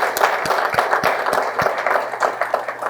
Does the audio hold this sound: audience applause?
yes